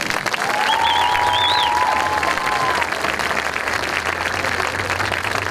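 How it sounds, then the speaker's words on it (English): Loud, steady audience applause with scattered cheers and whistles fills the whole stretch, honoring the North Penn marching band seniors at a 2022 community night. "Let's give them a round of applause."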